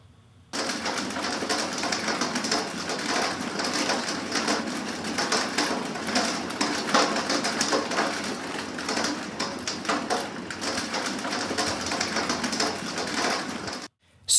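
Hail from a field recording falls as a dense, steady patter of small hard impacts, sustained at an even level for most of the stretch, then cuts off abruptly.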